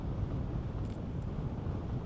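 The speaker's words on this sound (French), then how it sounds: "le vent, ça fait tellement du bien" Wind buffets a microphone on a boat's deck during a crossing to Canada, a steady low rumbling roar with slight gusting and no voices.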